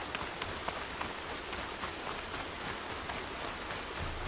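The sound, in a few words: rain in the video game Horizon Zero Dawn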